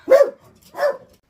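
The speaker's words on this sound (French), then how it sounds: "C'est le chien de mes voisins." A neighbours' dog barks twice, two loud close woofs about half a second apart, standing alone against silence.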